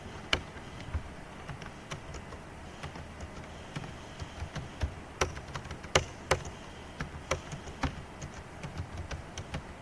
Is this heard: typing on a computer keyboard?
yes